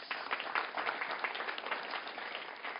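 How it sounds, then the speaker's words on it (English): A crowd at a wine industry gathering applauds in a dense, even, continuous wash of clapping that holds steady at moderate loudness with no talk over it. "Let's give him a round of applause."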